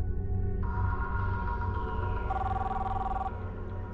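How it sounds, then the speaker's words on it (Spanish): A steady electronic tone sounds continuously, shifting pitch partway through, over a low background rumble, like a phone line or ring signal. "Está sonando el teléfono, ¿escucharon?"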